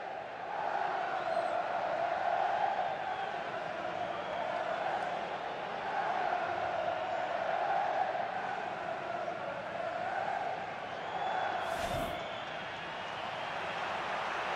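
A football stadium crowd at a LaLiga match between RCD Mallorca and UD Las Palmas roars in a sustained, swelling wash of cheering and chanting, loud and continuous, with a short sharp burst near the end.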